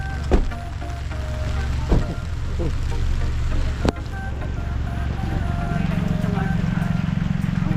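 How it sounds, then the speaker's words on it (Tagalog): Rain falls steadily outdoors during a grocery trip, a soft continuous patter that grows toward the end, with a few sharp knocks and people talking over it. "Wow, it is raining."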